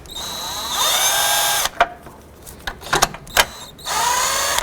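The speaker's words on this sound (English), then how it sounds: "loosen the battery hold down clamp using 10mm socket" A power tool with a 10mm socket loosens the battery hold-down clamp on a 2007-2011 Honda Civic, loud close whirring bursts broken by ratcheting clicks and short spins, then one more steady run.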